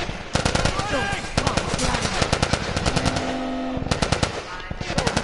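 Rapid bursts of automatic gunfire rattle loudly and close in The Last of Us, with repeated volleys and short pauses, as voices shout over the shooting.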